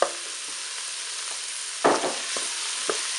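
Rice with carrots and peas frying in a Cookeo multicooker, a steady close sizzle broken by a few louder scraping stirs, with no voices.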